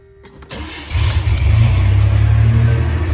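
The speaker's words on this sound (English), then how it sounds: "I'm gonna start the engine, turn the AC on" A car engine cranks briefly and catches, settling into a steady, close idle with a slight rev at the start.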